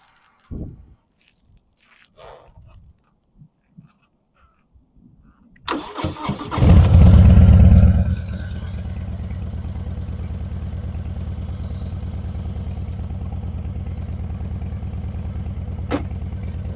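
Harley-Davidson Breakout 117 motorcycle engine cranks and fires with a loud burst of revving, then settles into a steady, deep, throaty idle that rumbles on alone close by, with faint handling noises beforehand.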